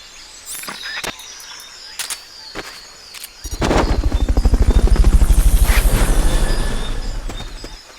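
In the video game Metal Gear Solid: Peace Walker, after a few sharp clicks and bursts, a helicopter's rotor swells in, its rapid rhythmic chopping thumping loudly, then slowly easing.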